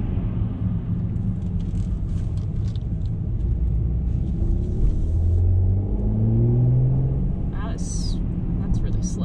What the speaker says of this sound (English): It definitely sounds phenomenal.